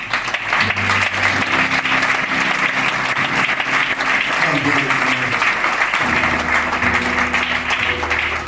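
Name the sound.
church congregation applauding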